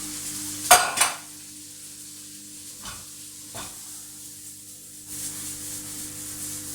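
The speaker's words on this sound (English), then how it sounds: "Saute those off a little more." Canned beans sauteing in a pan for plant-based Mexican beans, a faint low sizzle under a few sharp utensil scrapes and knocks against the pan, close by, no speech.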